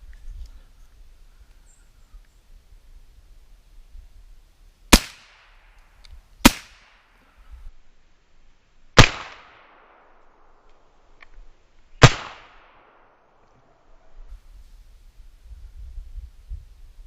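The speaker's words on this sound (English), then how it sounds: "I shot the corn right out of his mouth." Gunshots in quiet woods during a squirrel hunt: four sharp, loud cracks spaced a few seconds apart, each with a short fading echo, over faint low background noise.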